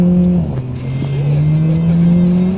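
A tuned Skoda Octavia 1.8 Turbo, stage two, revs its exhaust up close, a loud droning note that dips after a quick blip and then climbs again in pitch, with no talk.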